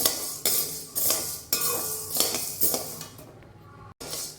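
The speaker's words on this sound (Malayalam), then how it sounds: "ഈ ചെറുപയറൊന്ന് വറുത്തെടുക്കാം." Green gram dry-roasting in a pan, repeated loud scrapes and clinks of a spoon stirring dry grains against metal, coming in bursts about every half second, with a short quiet spell near the end.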